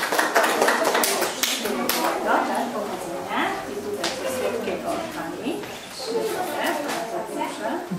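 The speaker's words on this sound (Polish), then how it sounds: "Brawa dla Szymona." Applause and clapping for preschool children at a kindergarten graduation ceremony, steady crowd clapping throughout with chatter and voices mixed in.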